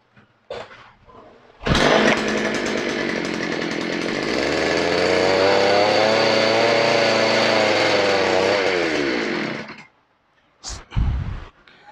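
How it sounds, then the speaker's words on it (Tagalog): Earth auger engine revving up and running at a loud, steady two-stroke roar for about eight seconds before cutting off, with brief bursts of engine noise around it. "Earth Auger po natin ha."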